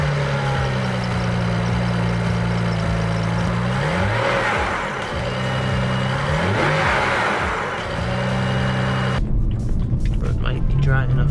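A BMW 335i E90 with the N54 engine and freshly cleaned and oiled BMS intakes revs hard in repeated bursts, each throttle blip climbing sharply before falling back to a rumbling idle, loud and close, with a voice joining near the end.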